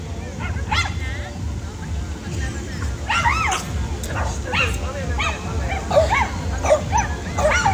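A dog barks and yips repeatedly with some whimpering, mixed with voices and a steady low rumble in the background, at a car-free Sunday fun run on Ayala Avenue, Makati.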